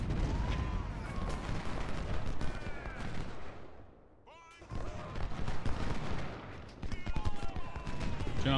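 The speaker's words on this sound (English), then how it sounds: "All batteries of guns all firing." Civil War artillery batteries fire in the Ultimate General: Civil War strategy game, a dense rolling barrage of cannon and musket volleys that briefly thins out midway before surging back to full intensity.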